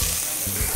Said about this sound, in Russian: И отправляем жариться лук.